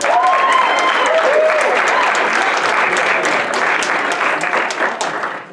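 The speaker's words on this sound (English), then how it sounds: "Give them a round of applause as they come up" Audience applause greets volunteers coming up on stage, a sustained, loud burst of many hands clapping that holds steady before tapering off, with a few voices mixed in.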